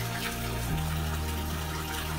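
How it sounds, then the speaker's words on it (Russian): Water running constantly in a steady, loud rush outdoors during a spring cycling outing, with a low hum beneath, no voices heard. "И вода, главное, постоянно текет"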